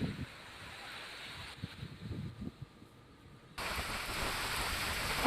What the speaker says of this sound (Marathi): जोरदार पाऊस तर बरसलाय